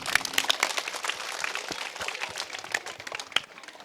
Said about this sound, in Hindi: एक बार जोरदार अपने लिए तालियां बजा दो।